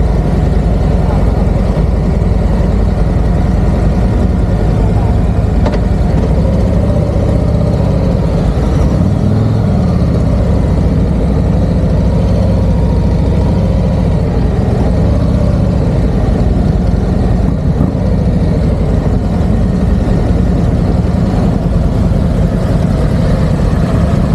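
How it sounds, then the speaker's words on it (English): A motorcycle engine runs continuously, deep and throaty like a car, comparing a Royal Enfield Super Meteor 650 and Harley Street Glide after rain; the loud, close idle rumble holds steady with slight revving, and a voice briefly speaks over it. "that's a car engine, absolutely a car engine"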